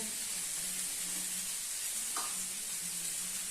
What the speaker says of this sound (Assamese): মছলাখিনি ভালকৈ ভাজিবলৈ অলপ অকণমান পানী দিব অকণমান গৰম পানী